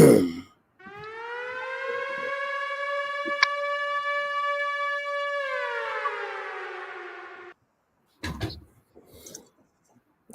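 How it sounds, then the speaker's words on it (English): A siren sound effect plays as one long, loud, steady wail that holds for several seconds, then slides downward and cuts off, followed by a few brief knocks and clatters. "let me cue the siren"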